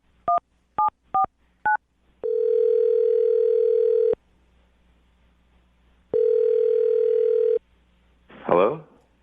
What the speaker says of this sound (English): Dial the phone number right now and get him on the phone.